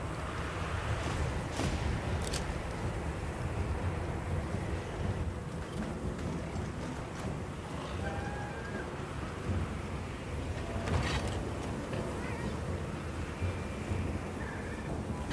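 A storm in Monster Hunter Wilds sends a steady rush of wind and rumbling noise through the scene, with faint distant cracks rising over the constant roar.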